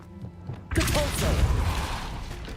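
In Hogwarts Legacy, a force spell is cast. After a brief quiet lead-in, a sudden loud whooshing blast hits and holds as a dense rushing rumble to the end.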